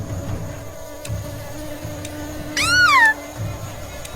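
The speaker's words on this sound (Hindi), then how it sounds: "कुछ मधुमक्खी निकली और उन सभी के आसपास मंडराने लगी।" Bees hovering around uncovered dishes of spoiled food crawling with insects, in an animated horror story; a steady, moderately loud buzzing drone runs throughout, with a short cat meow rising over it near the end and no talking.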